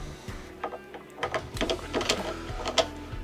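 Bolt of a Sako S20 hunting rifle sliding back into the action, a quiet run of close metallic clicks and scrapes spread over a few seconds, with no talk.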